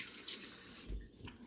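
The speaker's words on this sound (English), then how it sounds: "let me wash my hands again" Water runs steadily from a kitchen tap as hands are washed between steps of seasoning a whole chicken, a close, continuous splashing stream with a few louder gushes toward the end.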